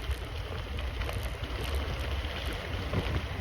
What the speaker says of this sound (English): Can you hear the white water?